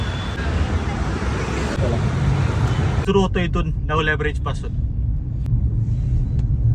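A friend's car driving along a road on a day trip from Pune to Bhor, steady low road rumble and engine noise from inside the cabin, with someone talking over it midway.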